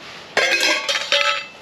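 Metal camping cookware pots clink and clatter as they are handled, three sharp bright knocks with short ringing tails, close and clear with no talk.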